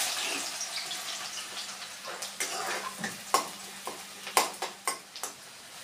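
Chopped onion hits hot oil for a village-style bhogi vegetable dish, making a soft, fading sizzle that gives way to a series of distinct spoon clinks and stirring taps against the pan.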